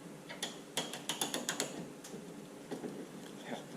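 A 1/2-inch drive ratchet with extension and socket clicks in quick bursts of rapid ticks while loosening an 11mm bolt inside a 1992-96 Ford truck door, close and fairly quiet.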